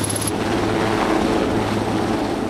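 Steady helicopter rotor and engine drone, loud and continuous, with a low throbbing hum under broadband wind-like roar and no voices.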